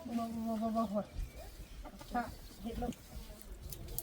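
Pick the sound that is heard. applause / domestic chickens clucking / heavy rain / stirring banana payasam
domestic chickens clucking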